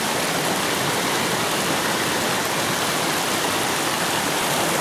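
A mountain river in the Pyrenees rushes and churns on a hike to Lac Bleu de Lesponne, a dense, even roar of flowing water close by with no voices.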